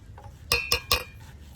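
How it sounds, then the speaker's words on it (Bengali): A spoon strikes the side of a bowl three times in quick succession with bright, ringing clinks as sweet batter is mixed with wheat flour, followed by softer scraping. "ভালো করে এইভাবে মিশিয়ে নেব।"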